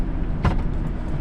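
A car on a rural shortcut road through farmland sweeps past close by in a brief loud whoosh, heard over the steady rumble of the traveling vehicle's engine.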